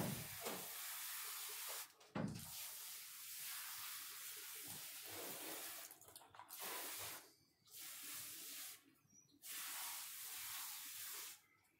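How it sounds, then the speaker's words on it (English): A gentle water spray from a hose nozzle falls on freshly transplanted celosia plants, a soft hissing shower close by that runs in several bursts separated by short pauses. "And then I'm going to give these just kind of a gentle spray in here too."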